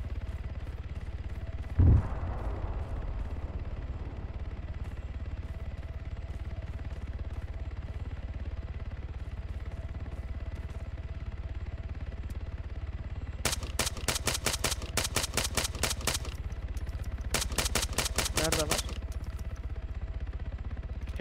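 Gunfire aimed at a helicopter in the video game Arma 3: a single sharp shot early on, then two long bursts of rapid automatic fire later, loud over a steady low rumble.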